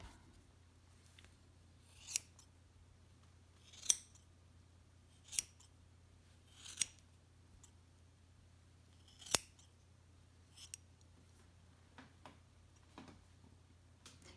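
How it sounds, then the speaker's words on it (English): Scissors trimming the yarn pile of a rug woven with Ghiordes knots, heard as a string of crisp separate snips spaced a second or two apart over a quiet low hum, with no talking. "I'm going to trim those a little shorter than the rest of it."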